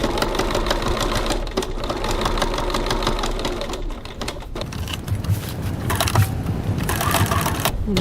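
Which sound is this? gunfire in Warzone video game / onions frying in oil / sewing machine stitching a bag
sewing machine stitching a bag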